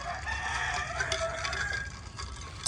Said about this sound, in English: That mean tail rooster.